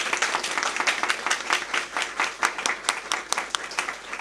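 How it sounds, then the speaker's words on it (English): A graduation audience claps in a steady, rhythmic unison, each hand clap spaced evenly in a brief, moderately loud round of applause. "Let's give them an academic clap."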